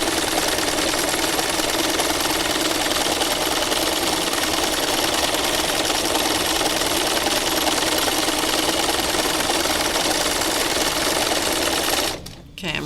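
A sewing machine stitches steadily and loudly for about twelve seconds without pause, then stops abruptly.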